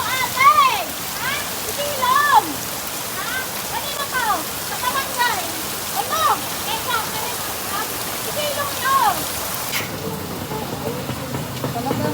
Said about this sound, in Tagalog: Basang-basa ka na sa ulan.